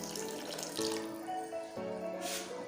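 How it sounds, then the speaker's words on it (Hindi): Half a glass of water poured into a pan of fried ghee curry masala for chicken kofta curry, a steady close splashing pour with a few brief surges throughout. "अब इसमें आधा गिलास पानी का शामिल कर"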